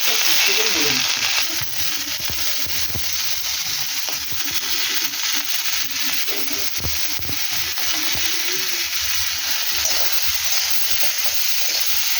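Vegetables and chillies fry steadily in a pan for a Bengali bata fish curry, a continuous loud sizzle with occasional stirring scrapes and faint background voices.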